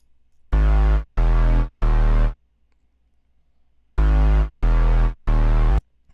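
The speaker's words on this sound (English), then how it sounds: "It's a super hard bass, really dark and like grimy type of bass." Deep, heavy synth bass notes in two groups of three short blasts separated by a pause, loud and gritty, with no voices.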